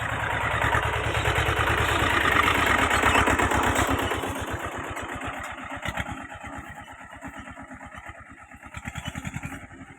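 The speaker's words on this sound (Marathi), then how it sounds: "तर आलाय ट्रॅक्टर आता" A tractor engine chugs steadily nearby with a loud, rhythmic diesel thump, easing slightly midway and revving again toward the end.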